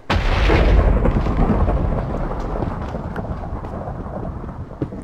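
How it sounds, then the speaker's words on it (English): Thunderstorm in the video game Minecraft: a loud rumbling thunder boom at the start fading into a long low roll over steady rain. "I don't like thunder storms."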